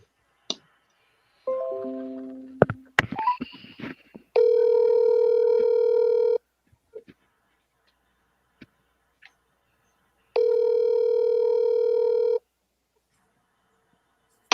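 Telephone dial tone sounding in two steady sustained bursts of about two seconds each, separated by a quiet gap, after a short stretch of dialing beeps and handling clicks on a phone line; no talk.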